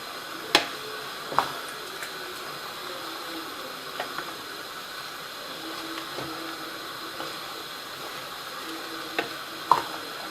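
Peppers and other vegetables for a leco winter salad are stirred in oil in a pan, with a low continuous sizzle and occasional sharp spoon clicks against the pan spaced several seconds apart, quiet and free of speech.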